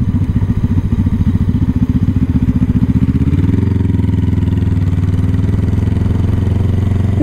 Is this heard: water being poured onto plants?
no